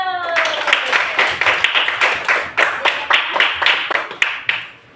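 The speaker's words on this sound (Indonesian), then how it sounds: "Tepuk tangannya dulu" A classroom of students claps hands together during a teaching practice lesson, a run of distinct, fairly rhythmic claps close by, with a brief voice at the start.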